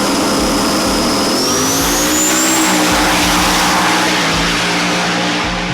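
A drag race car pulls hard down the track during a drag week event, its engine a loud, continuous roar that climbs steadily in pitch, heard close and alone with no talk.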